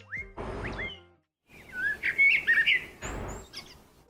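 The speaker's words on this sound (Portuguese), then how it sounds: "Tem poucas coisas que eu gosto mais pela manhã do que ouvir o canto dos pássaros" Birds sing in the morning, close and clear, with bright chirps and whistled phrases coming in several short bursts separated by brief pauses.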